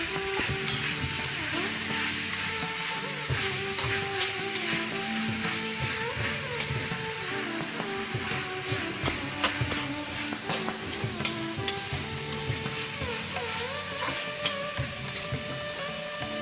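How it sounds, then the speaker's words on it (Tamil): Potatoes sautéing in a pan for vegetable biryani, with a constant sizzle broken by frequent clinks and scrapes of a stirring spoon, close up and without talk. "இப்போ இதை போட்டு ஒரு வதக்கிடணும்"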